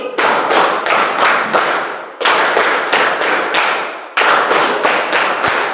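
Students in a classroom clap a counted pattern: three bursts of about five quick, loud, unison claps, each group separated by a brief gap.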